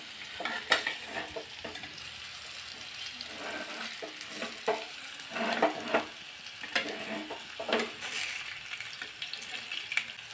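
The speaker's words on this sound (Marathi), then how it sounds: "हे वडीला आपल्याला पलटी मारायची आहे" Spinach (palak) vadi fries and sizzles in a pan, with a steady hiss under scraping, stirring clicks as the pieces are flipped, close-up.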